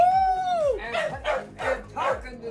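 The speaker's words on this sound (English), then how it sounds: "The dog's barking to get the cat, the other dog's barking" Two dogs in a busy house bark repeatedly at a cat, a quick run of close, loud barks following a high whine, with a voice mixed in.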